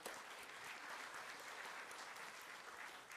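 Steady audience applause for a politician at a National Party committee event, continuous and even for the whole stretch, a dense wash of clapping from a large crowd with no break.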